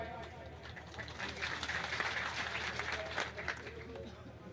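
A crowd at a political rally speech on the Bhil Pradesh demand in Rajasthan claps in a thick, continuous wash of applause, with a hubbub of voices mixed in.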